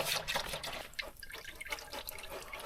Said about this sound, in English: We drained the oil.